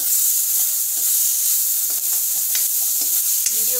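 Chana masala with salt and chopped tomato stirred in a frying pan: a dense, steady hiss of frying up close with soft intermittent scrapes of a spoon through the mixture.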